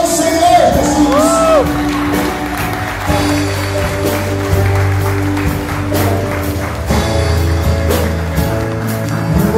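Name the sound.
congregation applauding and cheering for Jesus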